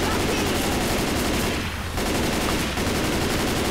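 Gunfire in the video game Left 4 Dead 2: loud, rapid automatic shots rattle in a steady stream, with two brief pauses, close and dominant.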